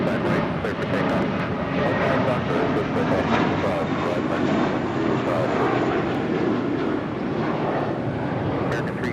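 An American airliner taking off from runway 25 right at Los Angeles International Airport, a loud sustained jet roar with wind buffeting the microphone, steady throughout.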